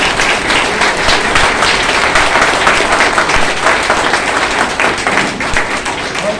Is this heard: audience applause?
yes